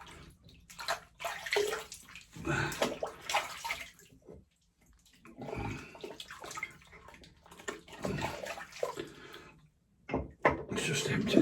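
Water splashing and running in irregular bursts as a man rinses off after shaving, close sloshing and trickling with short quiet pauses between rinses.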